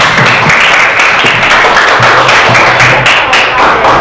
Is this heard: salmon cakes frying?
no